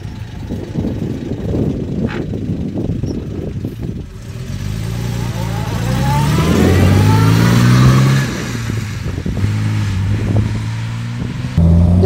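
A 1957 Lancia Aurelia B24 S Convertibile, a restored classic, driving along with its engine pulling and revving, rising in pitch and swelling louder midway as it accelerates through the gears, steady road noise underneath.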